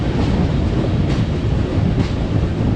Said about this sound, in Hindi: Karachi express Okara railway station पे अप्रोच कर रही है।